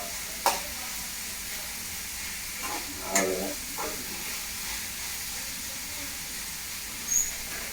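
Tomato, onion and green chilli frying in a pan for a tomato kootu, a soft continuous sizzle broken by a few spoon scrapes and taps, with no one speaking.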